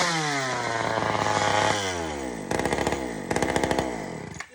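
An old Sears Explorer II chainsaw, under repair, revs up and down in close, loud bursts: a sustained high whine that drops off, then two short sharp blips of throttle near the end.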